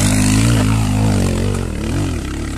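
Motorcycle engine revving hard during a start attempt on a mountain trail outing, a loud, steady low droning roar that wavers in pitch over a few seconds, up close with no talking.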